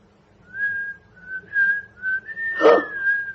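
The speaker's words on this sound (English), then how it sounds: "Let me whistle it to you." A person whistles a short tune of sustained notes, clear and close, with a brief muffled thump near the end.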